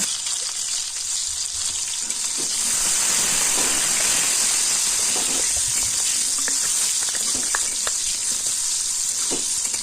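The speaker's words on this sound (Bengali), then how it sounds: "কড়াইটা গরম হয়ে গেলে দু চামচ তেল দিয়ে কাঁচা কলাগুলো দিয়ে দেবো দেওয়ার পরে একটু ভেজে তুলে নেব" Raw banana pieces fry in a little oil in a hot wok, making a loud, continuous hiss with scattered pops and crackles close by.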